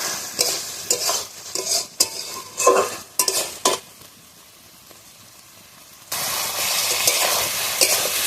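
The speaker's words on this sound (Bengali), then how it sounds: "এবার একটু ভালোভাবে কষিয়ে নেবো" Ground poppy seed paste being stir-fried with ridge gourd and potato in a pan: rhythmic scraping strokes of a spatula over a sizzle, then a louder, steady hiss of frying that fills the end.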